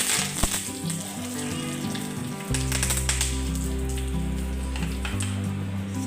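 Curry leaves hit hot oil in a tempering pan, bursting into a loud, steady crackling sizzle that swells sharply partway through and holds, with sesame seeds already spitting in the oil.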